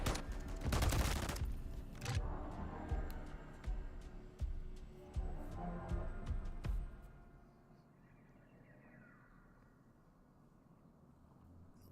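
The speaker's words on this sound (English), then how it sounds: "They're shooting from behind." Rapid gunfire from the video game Modern Warfare 3, dense bursts of shots and heavy thuds for several seconds before fading into quieter background noise.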